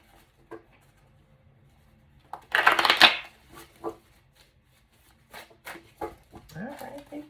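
A self-made tarot card deck riffles in a short, dense burst of close card shuffling, preceded and followed by scattered soft taps and handling noises, with a voice speaking briefly near the end.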